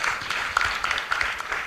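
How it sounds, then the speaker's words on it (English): Brief, fairly quiet applause from an audience at a special talk, a short burst of scattered clapping with a few sharper claps standing out. "Give a big round of applause to him."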